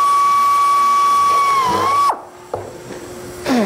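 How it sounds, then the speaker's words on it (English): Countersink bit in a drill boring into a molded insert in a wakeboard core: a steady high whine that holds, dips briefly, then stops abruptly, followed by a couple of short knocks and a faint rising whir, close and loud, with no talk. "all you do is you come in with a countersink bit"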